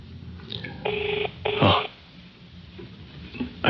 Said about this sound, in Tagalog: Agringan si cellphone na.